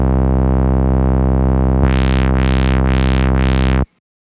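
Synth tone in Strudel modulated by a unipolar upwards LFO: a loud, steady buzzy drone whose brightness sweeps up and falls back four times in a regular pulse, then cuts off abruptly.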